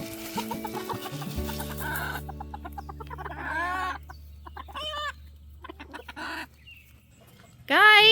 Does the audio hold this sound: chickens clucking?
yes